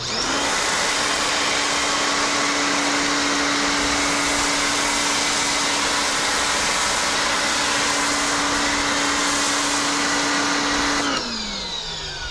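A Portland pressure washer sprays through a foam cannon, its pump motor giving a loud, steady, continuous whine and hiss for about eleven seconds before cutting off abruptly.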